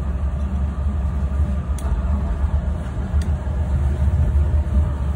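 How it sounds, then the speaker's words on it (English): The starboard engine of a 2006 Sea Ray 280 boat idles with a steady, loud low-pitched rumble and throb, continuous and close with no talking. "So when I start the starboard engine,"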